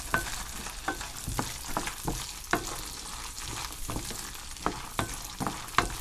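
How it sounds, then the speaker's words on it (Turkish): Blanched, peeled almonds, about a cup, roasting in a pan, with a repeated rhythmic scrape-and-clack of stirring over a low frying hiss, close up and without speech. "Bu bir su bardağı badem. onu kavuracağım."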